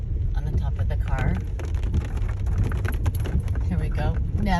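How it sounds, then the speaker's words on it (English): Raindrops drumming on a car roof during a rainstorm drive up a trail, a dense steady patter mixed with wind and engine rumble, close and fairly loud, with a person talking briefly. "You might be able to hear the raindrops on the top of the car."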